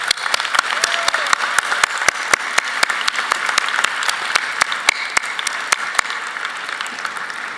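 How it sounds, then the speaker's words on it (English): A high school commencement crowd applauds the graduates' parents with sustained, steady clapping, a few sharp individual claps standing out near the front of the dense applause. "I think we owe our parents a big round of applause"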